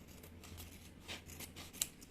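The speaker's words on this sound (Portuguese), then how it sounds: "A gente vai cortar o excesso de forro" Faint, quiet snips of scissors cutting excess fabric lining while sewing a changing pad that becomes a bag. Several soft cuts come in a loose rhythm, ending with one sharper click, and no one speaks.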